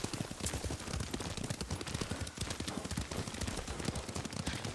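Rapid, galloping horse hoofbeats pound steadily throughout, mixed with sharp cracks like distant gunfire in a busy action scene from the video game Ghost of Tsushima.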